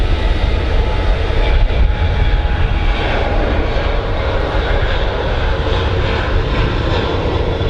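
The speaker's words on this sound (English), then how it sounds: "A320 Neo just taxiing past as well, we'll catch that." An Airbus A320neo airliner taxis past at Manchester Airport, its engines giving a loud, steady, broadband roar close by that holds constant throughout.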